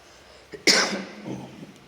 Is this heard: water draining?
no